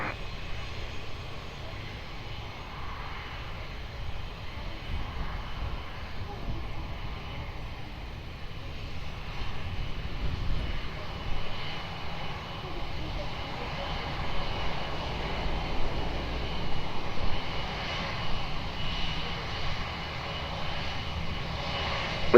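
An airliner approaching Lisbon Airport, its engines a steady, low roar that builds gently over the stretch, moderately distant with no talk over it.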